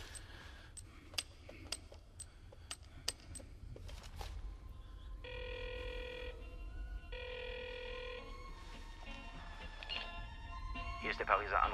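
A telephone rings in two long electronic bursts in a German-language comedy film, preceded by scattered clicks and followed by an answering machine picking up, with faint background sound throughout.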